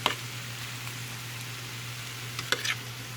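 Fried rice sizzling steadily in a pan, a continuous hiss with a low hum underneath and a few brief scraping clicks of stirring near the end.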